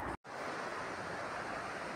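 Broad, steady rushing of the Sava river flowing in Bosnia, loud and continuous near the bank, with a brief dropout near the start and no voices.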